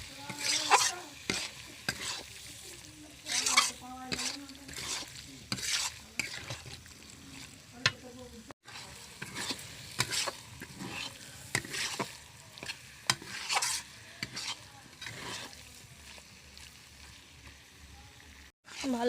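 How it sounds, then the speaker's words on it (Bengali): Mushrooms sautéed in a pan with salt, with repeated scraping and stirring strokes over a low, steady sizzle, the spatula clatters coming in irregular bursts, fairly close and moderately loud. "ভালো করে মাশরুমগুলো কষিয়ে নিয়েছি"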